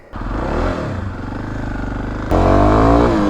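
A Kawasaki KLX300 dual-sport motorcycle pulls hard under acceleration, its engine note rising steadily, then surging louder and brighter as the throttle opens further near the end; close and prominent with no talk.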